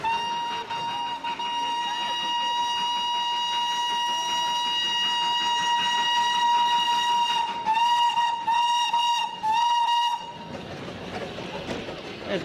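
The steam whistle of the Himalayan toy train, a narrow-gauge mountain railway, sounds one long, loud, sustained blast that wavers and pulses near its end before cutting off to rumbling train noise.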